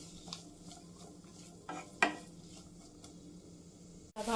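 Onions go into hot coconut oil in a pan and are stirred, giving a soft sizzle with occasional scrapes and a sharper clatter near the end, with no talk.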